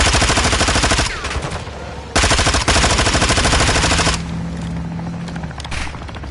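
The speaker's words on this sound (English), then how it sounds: "Another 2-4 is inbound now for gun run." In the Modern Warfare 2 video game, a helicopter gun run fires long, loud bursts of rapid machine-gun fire, broken by short pauses, with a low whine during the quieter stretch near the end.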